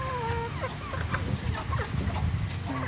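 Laying hens let out of their coop cluck and squawk in a busy overlapping chorus, close by over steady outdoor background noise, with short bright calls scattered throughout.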